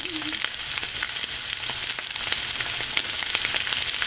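Steak searing in a pan, loud continuous sizzling and crackling with dense splattering pops throughout, close and alone without talk.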